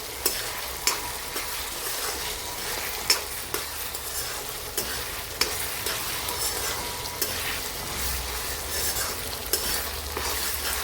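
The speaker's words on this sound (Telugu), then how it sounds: "ఇప్పుడు జింజర్ గార్లిక్ పేస్ట్, అల్లం వెల్లుల్లి పేస్ట్ వేసుకోండి సరిపడా. వేసాక బాగా కలుపుకోండి." Ginger garlic paste fries in hot oil for a dish of dry Vanjaram fish curry, with a steady close sizzle throughout and regular scraping clicks of a spoon stirring it around the pan.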